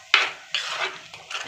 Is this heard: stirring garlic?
yes